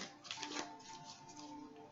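Tarot cards that tend to stick together are shuffled by hand, giving a soft, continuous papery riffle with small clicks, close and steady throughout.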